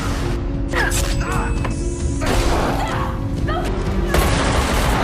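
Chaotic action-scene noise with repeated bursts of gunfire and heavy crashing booms, dense and loud throughout, layered over music.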